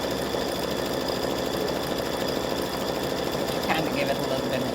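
An embroidery machine stitches highlight details on a Thanksgiving gnome applique, a dense, rapid mechanical chatter that runs steadily throughout, with a voice talking over it.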